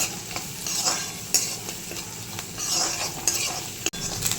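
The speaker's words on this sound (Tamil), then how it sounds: "ஆனியன் பாருங்கள் செம்மையாக ஃப்ரை ஆயிடுச்சு." Onions fry golden in a pan for a fish curry, hissing and sizzling steadily while a utensil stirs and scrapes through them in repeated strokes, close by with no talking.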